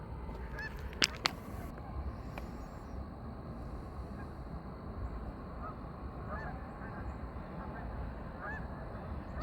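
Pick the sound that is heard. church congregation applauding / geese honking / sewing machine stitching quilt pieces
geese honking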